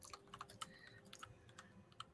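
A tactile computer keyboard is typed on lightly and sparsely, giving scattered crisp clicks at low volume with short pauses between bursts; no one speaks.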